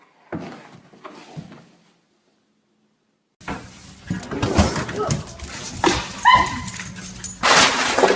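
A dog barks and yips in short bursts near the mic, first two or three isolated yelps, then after a pause a denser run of barks and whimpers over background noise.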